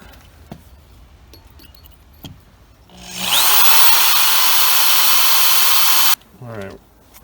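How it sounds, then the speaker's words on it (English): A power drill with a 5/64 bit bores a small hole through a mounting screw while a Ring wired doorbell is installed. A single loud, continuous whir lasts about three seconds between quiet stretches, and a brief voice follows. "I'm gonna just drill a small hole right through this other mounting screw"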